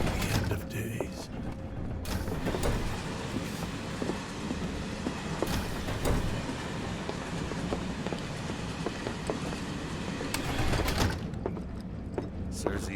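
A train ride in the video game Final Fantasy VII Remake gives a steady, dense rumble of rolling rail cars with creaks and metallic clatter throughout, fairly loud and continuous, with brief louder swells near the start and end.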